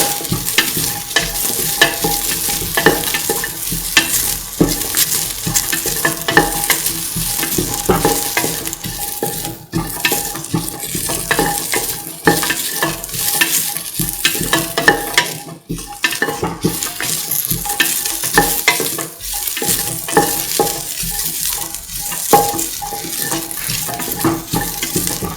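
Duck curry with coconut milk being stirred and fried in a pan, a continuous loud sizzle and bubbling with steady scraping stir strokes throughout, close up and without speech.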